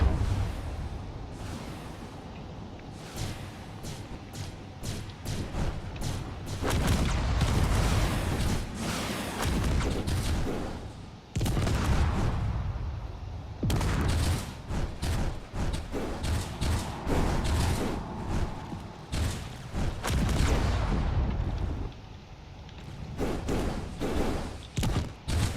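Weapons fire between drone fighters in a space combat game, a dense, continuous run of thuds, slams and bursts that rises and falls in intensity throughout.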